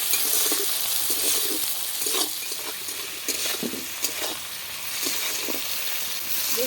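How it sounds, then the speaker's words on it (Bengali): Tomatoes with salt frying in a little oil, a constant bright sizzle with a spatula stirring and scraping the pan in repeated short strokes, close and fairly loud. "এবার আমি এইভাবে নাড়তে থাকবো"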